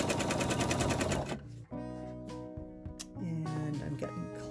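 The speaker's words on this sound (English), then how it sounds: "So I stitch the part that I've stretched" A sewing machine stitches quilt fabric strips in a fast, loud, even whirring run, then stops and restarts in shorter bursts with clicks and a steady motor hum.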